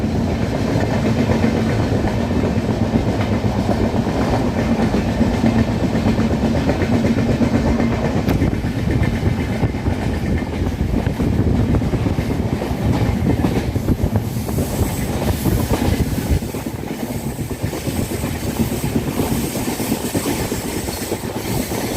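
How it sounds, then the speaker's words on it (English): Passenger train in India running at full speed, a loud continuous rumble with rhythmic clickety-clack of wheels on rail joints and faint squeal, heard from inside the carriage without talk. "you can see that the train is in full speed now"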